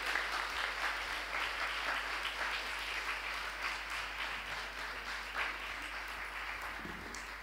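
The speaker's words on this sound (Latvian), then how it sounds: "Ar aplausiem sagāja priesteru Rodionu." An audience breaks into sustained, even applause welcoming a priest named Rodion, many hands clapping together at moderate distance and slowly easing off, with no talking over it.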